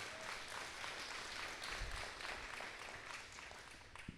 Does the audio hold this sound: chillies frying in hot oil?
no